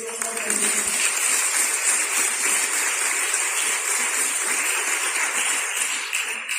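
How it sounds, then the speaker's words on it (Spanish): A church congregation claps during a Sunday morning service, a dense steady applause that holds evenly at full volume from start to finish with no speech over it. "Den un aplauso."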